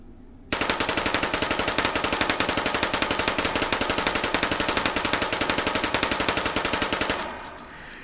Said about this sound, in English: I see this as BB's first submachine gun.